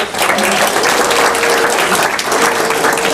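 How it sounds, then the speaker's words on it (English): Loud, dense applause from a group at a staff meeting as people are recognized, a continuous close wash of clapping with faint voices mixed in. "Give a round of applause for them."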